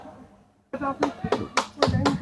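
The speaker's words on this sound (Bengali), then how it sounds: "জোরে হাততালি হয়ে যায়" An audience at the Obibhokto Bangla Sabuj Sena award ceremony breaks into applause after a brief silence, with near, uneven bursts of clapping growing louder and mixed with some speech.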